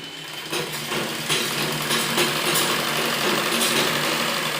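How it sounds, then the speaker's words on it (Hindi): A sewing machine stitches the side seam of palazzo trousers, running in a steady, continuous whir at close range without a pause. "अब जो साइड की सिलाई है वो हम पूरी कर लेते हैं"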